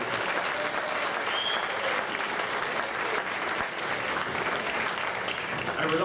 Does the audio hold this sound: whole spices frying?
no